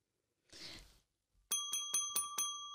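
A bell sound effect: after a brief whoosh, a bright bell dings five times in quick succession, crisp, close and ringing with no voices.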